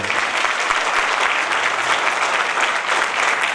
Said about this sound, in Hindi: तो इसके लिए भी मैं चाहूँगा आप एक बार जोरदार ताली अपने लिए बजाएं